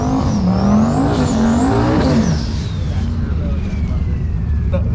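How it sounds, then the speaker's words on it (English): A Chevrolet Camaro launches off the starting line at an outdoor drag strip, its engine revving loud and close as it pulls away, then fading slightly into steady race noise. "Puts his Camaro on the starting line and takes the green light"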